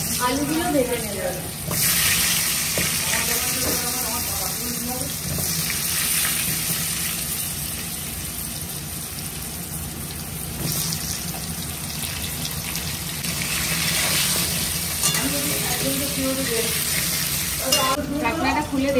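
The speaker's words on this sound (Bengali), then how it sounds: "আলুগুলো ভেজে নেব।" Potatoes fry in a pan with a strong, steady sizzle and occasional stirring, while a voice speaks intermittently over the cooking noise.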